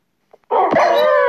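A small dog in a video game gives a single sustained yelping bark, loud and close, after a brief faint tick.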